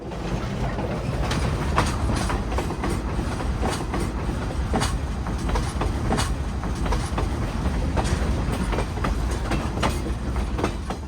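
Great Smoky Mountains Railroad train heard from inside a caboose, with continuous rumbling and rhythmic clickety-clack of wheels over rail joints, close and steady with no talking.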